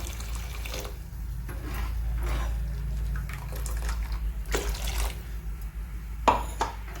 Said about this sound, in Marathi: याच्यात आपण अजून पाणी घालत आहोत एक फुलपात्र